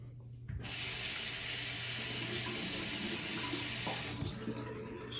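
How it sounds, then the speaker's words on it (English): Tap water gushes steadily into a sink to wet a razor blade, starting abruptly and holding a loud, even hiss for about four seconds before easing off. "So I just wet the blade."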